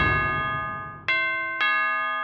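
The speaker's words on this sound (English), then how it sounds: "I think that was the doorbell." A doorbell at home chimes twice in quick succession, each strike bright and ringing with a sustained decaying tone, following a softer fading tone at the start; no voices.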